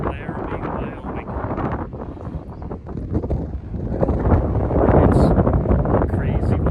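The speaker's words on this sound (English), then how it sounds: "It's crazy windy out here." Strong gusting wind buffets the microphone outdoors in Laramie, Wyoming, a loud continuous roar that swells toward the end, with a voice speaking under the rumble.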